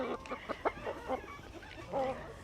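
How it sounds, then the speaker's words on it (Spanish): Hens cluck eagerly before being fed grain that keeps them laying, a flock of overlapping short clucks and squawks close by with a louder burst near the end. "Mis gallinas se desesperan por comer."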